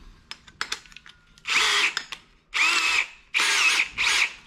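Power drill fitted with a hole saw boring into a door, a few short clicks and trigger taps followed by four loud sustained whirring bursts separated by brief pauses.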